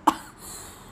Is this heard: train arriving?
no